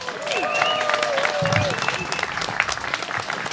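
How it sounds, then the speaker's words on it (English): An audience at a 40th anniversary political celebration applauds a speaker, a short burst of dense clapping with a few voices and whistle-like tones rising over it. "A round of applause for Paula Peters"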